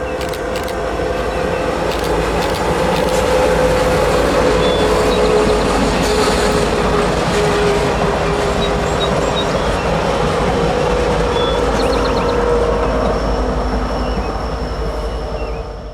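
A Piedmont passenger train, Train 74, hauled by a Heritage F-59 locomotive, rolls past close by near Raleigh with a loud sustained roar of wheels on rail, a steady rumble and occasional faint squeals.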